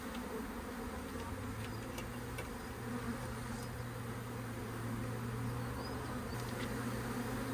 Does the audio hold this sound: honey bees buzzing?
yes